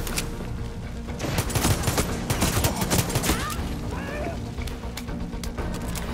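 Gunfire in Far Cry 6, a dense burst of rapid shots crackling loudly over a busy game soundscape, with a voice speaking briefly underneath.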